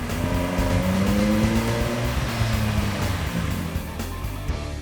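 A Suzuki GSX-R sport motorcycle is ridden hard around a race track, its engine screaming loud and close with rising and falling revs through the gears, continuous throughout.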